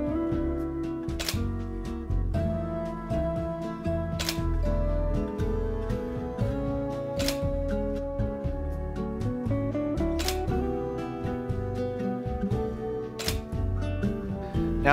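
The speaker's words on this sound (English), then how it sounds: "This is a Canon 7D body. I have the remote timer set up for 5 images every 2 seconds." Canon 7D camera shutter fired by a remote timer set for five frames every two seconds, with sharp, close mechanical clicks in regular bursts, roughly one every three seconds, over a steady background hum.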